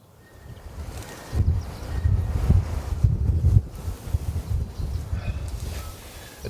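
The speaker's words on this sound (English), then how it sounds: "It's definitely starting to get more windy" Gusty wind buffets the microphone at a rainy campsite in low, rumbling bursts that rise and fall, with no voices, just the roar of moving air outdoors.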